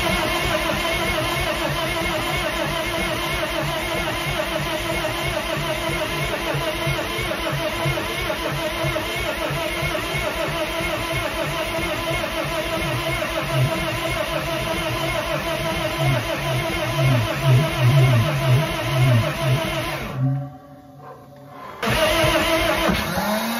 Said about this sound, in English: We're gonna cook our old starter before we get the new one cranking on it